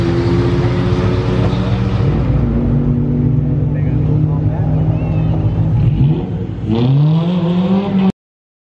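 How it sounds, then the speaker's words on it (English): A stock-turbo N54 BMW roars through a drag race run against a Mini Cooper, its loud engine note climbing steadily, dipping briefly near the end before surging again through a gear change, then cutting off abruptly. "So that second run you just saw against a Mini Cooper, that was the prior day."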